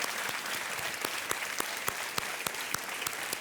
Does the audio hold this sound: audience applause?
yes